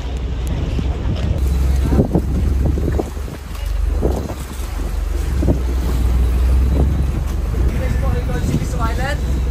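Crowded boats jostle and maneuver close together on open water, engines and hull sloshing under heavy wind buffeting on the microphone, with people talking nearby throughout.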